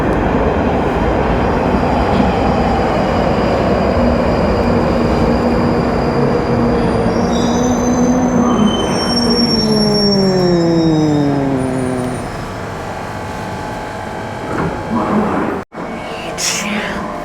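London Underground Northern Line train pulling into a platform on the southern section near Morden, a loud rumbling approach with rising and falling squealing tones from wheels and motors, fading near the end; a voice speaks over the station noise.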